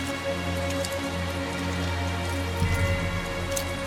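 Steady rain pours down in the video game Tales of Zestiria, a dense, even hiss with a low droning bed that thickens slightly near the end, no voices.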